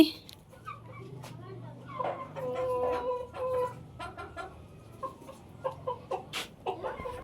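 Laying hens cluck and crow close by in a village poultry shed, with repeated short calls throughout while a voice talks over them.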